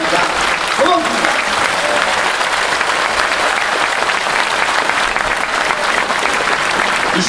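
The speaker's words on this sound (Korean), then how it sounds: "김동길 박사님께 다시 한번 박수 부탁드리겠습니다." A large audience applauds after Kim Dong-gil's lecture at a rally in Daegu. The clapping is dense and continuous and holds at a steady, loud level throughout.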